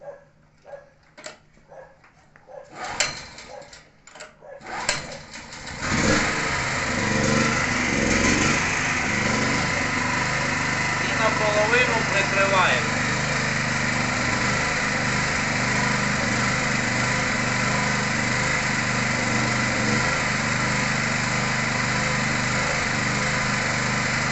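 A small carburetted engine on gas is primed and pulled over with a few sputtering tries, then catches and runs steadily with a loud, even drone, close by, with a dog barking early on.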